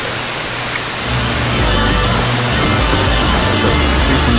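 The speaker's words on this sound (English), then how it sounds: "You can still hear the hiss because it's not strong enough to get limited by the limiter circuit." Broadband hiss from a weak FM station on a Heathkit AJ-11 AM/FM mono receiver, a steady loud rushing static that swells slightly after the first second and then holds continuously with no speech.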